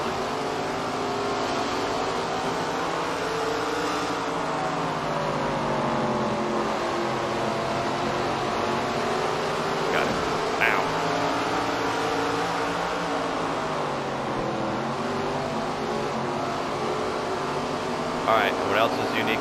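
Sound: race cars at Stafford Motor Speedway in SRX: The Game video game

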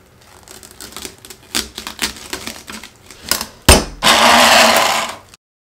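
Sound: coffee grinder running, covered with plastic wrap

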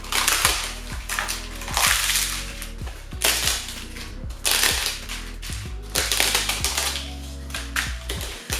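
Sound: crumbling yufka phyllo sheets into a round Borcam dish

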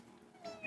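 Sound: cat meowing in Cat Shelter Rescue video game

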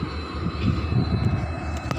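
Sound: Tirunelveli–Chennai Egmore train passing

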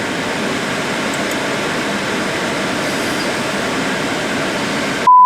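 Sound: train starting to move

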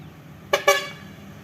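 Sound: dirt truck arriving, horn honking

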